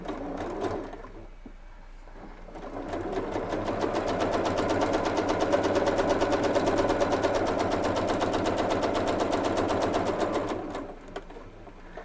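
A sewing machine stitches quilt half-square triangles with fine 80-weight polyester thread, a fast steady mechanical chatter that starts after a brief pause, runs for several seconds close and clear, then stops.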